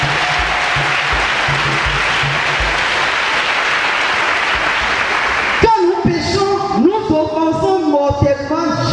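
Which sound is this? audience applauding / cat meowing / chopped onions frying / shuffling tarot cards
audience applauding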